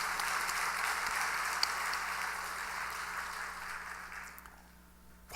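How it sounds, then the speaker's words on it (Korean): Sustained applause from a church congregation during a midweek evening service, dense steady clapping filling the room that fades toward the end. "우리 목사님에게 한번 감사의 박수를 한번 하십시다"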